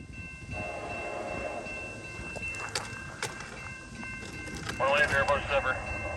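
A CN freight train rolls past at Mount Albert, its steady rumble filling the scene with metallic squeals and clanks rising near the end, while people talk faintly underneath.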